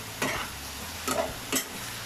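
Leafy greens tossed into a hot pan and stirred, giving three short scraping bursts over a steady, low sizzle, close up with no talking.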